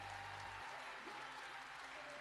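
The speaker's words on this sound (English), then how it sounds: "Give them a round of applause, folks." Applause from a crowd at a strongman competition, steady and broadband throughout, with a low hum briefly underneath at the start.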